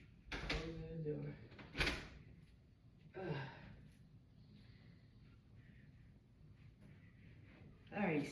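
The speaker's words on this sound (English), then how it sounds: "Close the door." An indoor door is pushed shut on a chilly, rainy day, giving a few short thuds and bumps against a quiet room background, with a brief breathy sound near the end.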